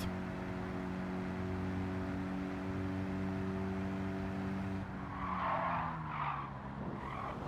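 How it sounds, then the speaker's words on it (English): A 1970 Abarth 595 SS spins out on the Nürburgring in Gran Turismo 7. A steady buzzing engine drone gives way to a few loud, wavering tire squeals, with no talk. "Now we spin the Abarth."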